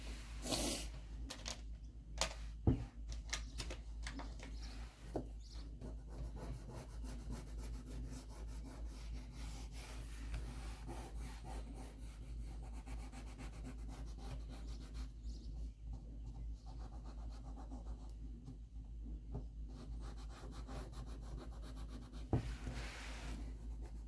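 Crayon rubbed on paper to color a background, a faint continuous scratchy rubbing close up with small pauses and a few light taps, no speech.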